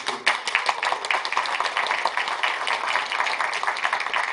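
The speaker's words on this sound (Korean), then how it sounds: "저 박수 한번 주시죠." A crowd at a forum in Gwangju applauds steadily, a dense patter of many hands clapping at even loudness throughout.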